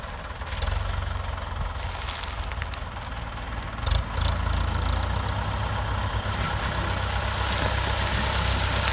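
A Ford 6600 farm tractor's diesel engine runs steadily for several seconds with a loud low chugging rumble, a brief rev bump midway, heard up close outdoors with no talk.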